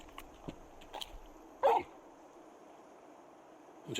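Torgal, the large dog in the video game Final Fantasy XVI, gives a few faint yips and whimpers, then one short louder bark-like sound, against quiet game ambience.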